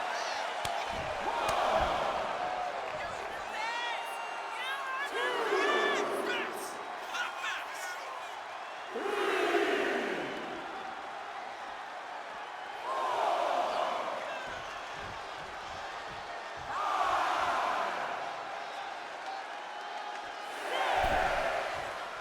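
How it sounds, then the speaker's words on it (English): Arena crowd in the WWE 2K25 wrestling video game, a steady roar that swells into loud cheering bursts every few seconds, heard under continuous excited commentary. "He's pumped up, and so is this crowd."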